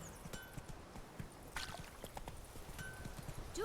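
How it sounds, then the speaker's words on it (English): A horse's hooves clop steadily in The Witcher 3 video game, soft and fairly faint, under ambient game sounds with no talking. "Let's go ahead and get on our horse."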